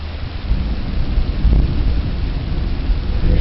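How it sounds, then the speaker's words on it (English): Thunder rumbles low and steady through a building storm as rain begins to fall, a continuous deep roll with no voices present. "There's thunder."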